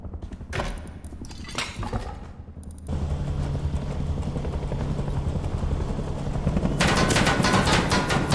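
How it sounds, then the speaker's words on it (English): A patrol helicopter in a video game approaches with a thudding rotor chop that starts after some clattering, grows louder and steadier, and swells to a close, loud roar by the end. "Sounds like a helicopter's coming."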